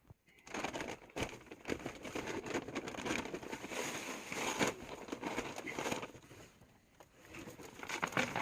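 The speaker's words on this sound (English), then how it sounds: "I'm digging in the bag of salt. Just salt the steps." Salt is dug from a bag and scattered on snowy steps after a snowstorm, giving a continuous granular crunching and pattering rustle, fairly close but quiet, with irregular louder scoops and no talk.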